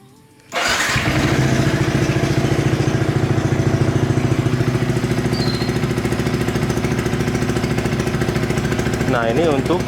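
Yamaha R15 V3 motorcycle fitted with an R9 Misano exhaust and its DB killer closed, firing up close by and then settling into a loud, steady, throbbing idle.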